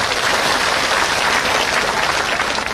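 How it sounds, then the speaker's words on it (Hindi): Loud, sustained applause from a large crowd welcoming Hanuman Beniwal at an election campaign rally for Gajendra Singh Shekhawat, a dense, steady wash of clapping with no voices. "आप सबसे गुजारिश करूंगा कि भाई हनुमान जी के लिए जोरदार तालियां बजाकर उनका स्वागत करें"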